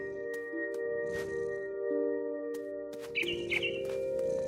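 Bright bird chirps ring out in a short cluster in What Remains of Edith Finch, over sustained soft musical tones and scattered clicks, with no talking.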